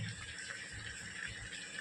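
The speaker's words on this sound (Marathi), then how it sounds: "आता आपण पाणी ॲड करतो" Hot water pours into a chicken and potato curry in a kadhai, a faint, steady splashing rush with no voices.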